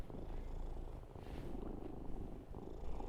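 A cat purring close up, a soft, steady rumbling purr that continues throughout with slight swells and no talk.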